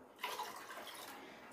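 Water poured into a cooking pot in a home kitchen for an Algerian Ramadan recipe with sugar, a steady splashing rush that starts abruptly and runs on close and fairly loud.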